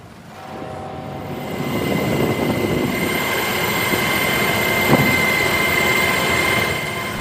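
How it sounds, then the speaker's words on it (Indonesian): A US military helicopter hovering over the Iran-flagged tanker MT Celestial during a maritime interception, its loud, steady rotor and engine roar continuous and close throughout, with a faint tonal whine above the rumble. "Rekaman yang dirilis oleh CENTCOM menunjukkan sebuah helikopter militer Amerika Serikat berada di atas kapal MT Celestial berbendera Iran"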